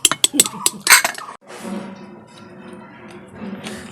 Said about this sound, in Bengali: এখন প্লেট বিতরণী সেশন চলছে।